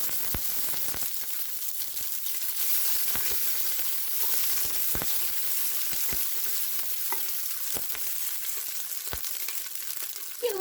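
Tail fat melts and sizzles in a pressure cooker, a steady hiss of frying punctuated by occasional sharp pops and crackles, close and continuous with no talk.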